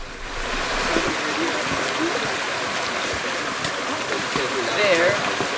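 A mountain stream beside a Carolina hiking trail rushes in a constant broadband wash, loud and near, with faint splashes and bird-like chirps over it throughout.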